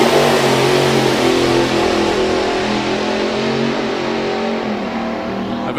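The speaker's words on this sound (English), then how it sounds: "A very definite second gear launch by the looks of that." Drag racing car Freddie's Revenge, powered by an ICE Automotive engine, launching down the strip at Santa Pod: a loud, sustained engine roar with stepped tones that eases slightly as the car pulls away.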